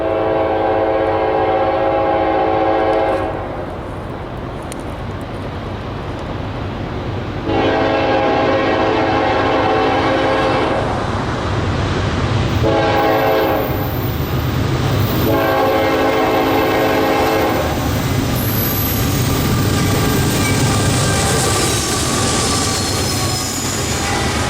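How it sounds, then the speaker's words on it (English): A freight train led by an AC44C6M locomotive with BNSF units rolls past trackside in Georgia in winter, sounding repeated loud horn blasts over a constant rumble of wheels and engines. "catching train 282, having AC 44C6M number 4001 at the lead in its blue and gray paint scheme, along with BNSF power in the mix"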